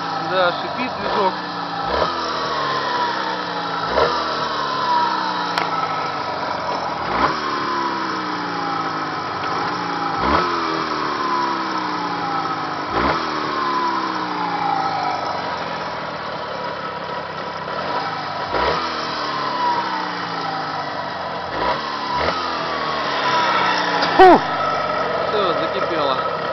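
A Jawa 638 motorcycle engine runs on a test, holding a steady idle with a light buzzing tone and a few brief rises in revs, close by and continuous.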